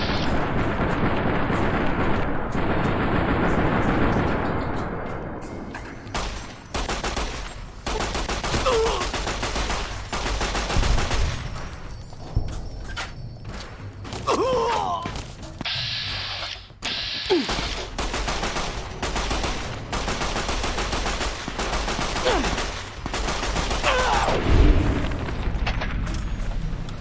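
Sustained gunfire in Fallout: New Vegas: dense, overlapping volleys and booming shots from several weapons, loud and continuous with brief lulls, heavier bursts returning toward the end.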